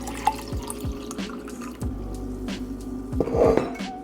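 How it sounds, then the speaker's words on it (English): A fizzy skin-care drink fizzes and crackles in a glass, with quick drips and small splashes and a few light clinks of glassware. The sound is close, clear and not covered by any talking. "Sizzling. You want the bubbles, that is what you want."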